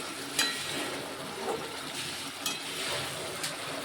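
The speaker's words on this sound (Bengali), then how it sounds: "চিকেনটা কষানো হচ্ছে।" Chicken sautéing (kosha) in a pan gives a steady, close sizzle with a few light stirring clicks spread through a few seconds.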